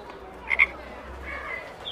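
A bright green frog gives a couple of quick, close croaks over a quiet background hush, with a softer call trailing after.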